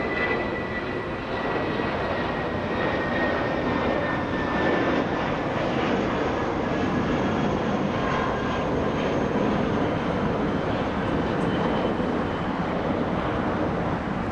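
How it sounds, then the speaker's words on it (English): A JetBlue airliner bound for Reno takes off at Los Angeles International Airport, its engines a steady broadband roar that holds loud and even for the whole stretch with no voices. "We got a JetBlue leaving."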